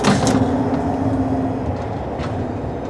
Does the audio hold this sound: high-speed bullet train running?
yes